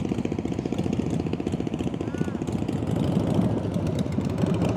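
A motorcycle engine idles and putters steadily nearby during an outdoor riding lesson with cone drills, a constant low rumble throughout with faint background voices.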